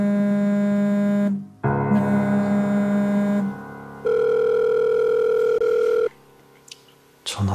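Steady electronic tones sound in long sustained stretches, shifting pitch between segments, like a phone line ringing with no one picking up.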